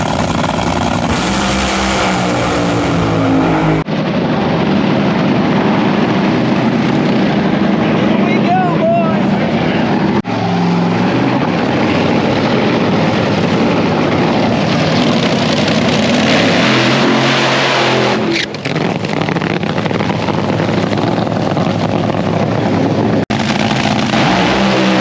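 A race car engine roars loud and close in a sustained run, with shifts in pitch and intensity and several abrupt changes in tone along the way.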